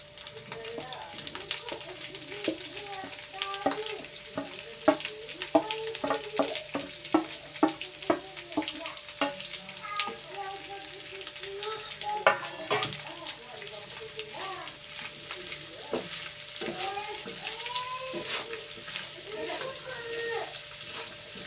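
Chillies and onions fry in oil in a home kitchen, giving a soft, uneven crackle with intermittent spatula scrapes and stirring knocks. A faint hum runs underneath.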